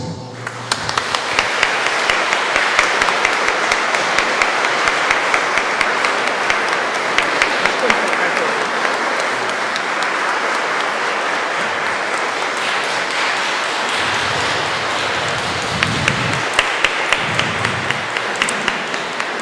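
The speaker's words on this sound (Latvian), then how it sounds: "Un, protams, lūdzu aplausi." A church congregation at a holy Mass in Pasiene breaks into long, sustained applause, dense and steady clapping that carries on for around twenty seconds with a few louder individual claps standing out.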